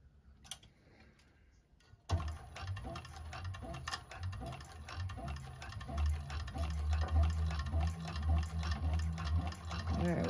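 A 1341 cylinder arm sewing machine stitches through thick bag material in a rapid, steady mechanical chatter, fairly quiet and close, starting after a couple of seconds of faint handling sounds.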